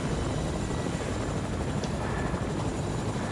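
A Fortnite helicopter gives a loud, constant rotor thrum and engine roar, close and unbroken for a few seconds with no talking.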